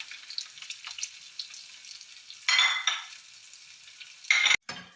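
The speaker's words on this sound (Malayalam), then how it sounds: "ഈ ഉള്ളി ഒന്ന് മൂപ്പിച്ചെടുക്കണം" Onions and chillies fry in a pan with a soft, crackling sizzle. It swells into two louder bursts of hissing as the pan is stirred, then cuts off briefly near the end.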